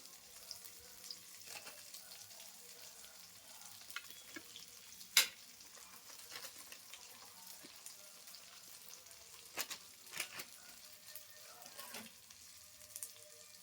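Red chili powder frying in a little oil gives a faint, continuous sizzle, broken by scattered clinks and one sharp metallic tap from a utensil.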